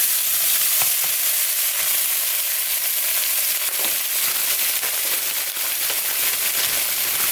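Minced garlic and ginger sizzling in hot oil in a pan, a bright continuous crackling fry close up, with occasional stirring clicks and no talking.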